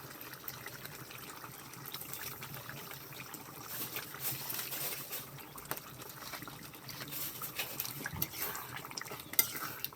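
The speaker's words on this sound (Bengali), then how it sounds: "মশলা কষানো হয়ে গেছে এখন আমি মাংসগুলো দিয়ে দেবো" Beef goes into a pot of cooked-down spices and soy sauce and is stirred, with faint scraping, clinking of a spoon against cookware and soft sizzling throughout, fairly quiet and without speech.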